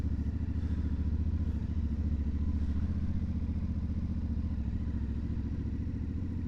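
A CFMoto 450MT adventure motorcycle engine runs steadily and loudly up close for the whole stretch, a constant low rumbling drone with a slight mechanical clatter and no voices.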